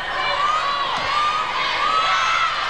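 A loud arena crowd cheers and whoops steadily throughout at a wheelchair basketball game between Australia and the USA, with children's shouts and a whistle-like tone riding over the dense roar.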